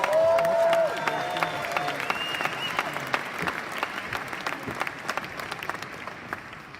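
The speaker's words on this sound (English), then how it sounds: "So big applause." Applause from a conference audience in Amsterdam carries on throughout, dense at first and thinning into scattered claps, with speech and a brief tonal sound near the start.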